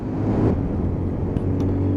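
A Lexmoto Titan motorcycle engine droning steadily as it rides up to speed, a loud close hum with a low, even tone and no pauses.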